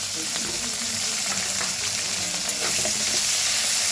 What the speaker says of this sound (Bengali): এইভাবে পেঁয়াজটাকে ভালো করে ভেজে নিতে হবে